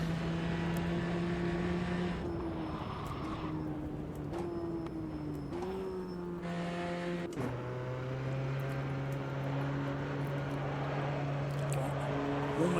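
A race car's engine in the sim racing game Automobilista 2 drones steadily for the whole stretch, pitch rising and dropping through gear changes as the tyres are warmed, loud and continuous with no talk over it.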